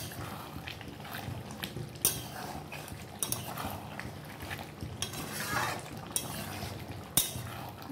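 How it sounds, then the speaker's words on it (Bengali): A spiced meat curry with yogurt is stirred in a pot. A metal spoon scrapes and clinks sharply against the pot at irregular intervals over a faint, quiet sizzle. "মশলাটা ভালো করে নাড়াচাড়া দিতে হবে, না হলে লেগে যাবে"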